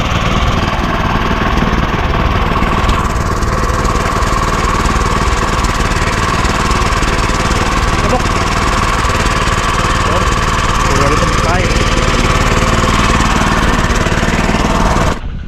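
A motorized crop sprayer's engine runs continuously outdoors on a farm, a loud, steady buzzing drone close by that holds constant for the whole stretch before cutting off abruptly at the end.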